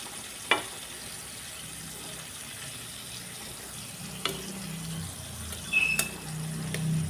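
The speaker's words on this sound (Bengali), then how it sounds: "চাল কুমড়োগুলোকে ভেজে নেব। এক পিঠ ভাজা হয়ে গেছে, এখন উল্টে দিচ্ছি আরেক পিঠ যাতে ভালো করে ভাজা হয়ে যায়।" Ash gourd pieces fry quietly in a pan with a soft, steady sizzle, broken by a few brief clinks and scrapes as the pieces are turned over.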